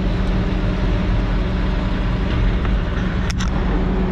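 A dump truck loaded with dirt rumbles past on a rough haul road, its heavy engine droning loud and steady with a low throb and a brief rattle near the end, no talking.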